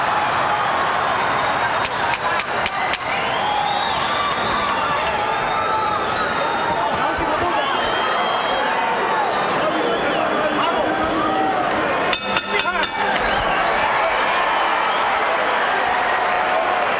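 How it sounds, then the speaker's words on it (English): A boxing arena crowd at a Javier Castillejo fight chants for Oscar De La Hoya, a steady roaring hubbub throughout with a few sharp bursts of camera-like clicks, under continuous commentary. "Crowd chanting Oscar, Oscar, Oscar"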